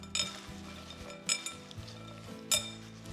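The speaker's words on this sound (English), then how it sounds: "and I'm just going to give it all a good toss." A Mediterranean Waldorf salad is tossed in a bowl, producing soft rustling and a few sharp clinks against the dish, close and quiet, over a low steady background hum.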